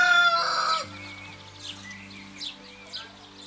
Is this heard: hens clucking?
yes